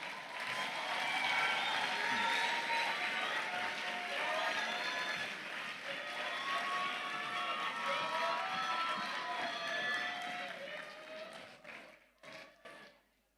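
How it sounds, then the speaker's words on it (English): A large crowd at a graduation ceremony applauds continuously, with cheers and whoops mixed in, before the clapping thins out and fades near the end. "let's give them a round of applause"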